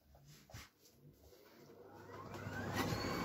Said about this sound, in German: Staubsauger an.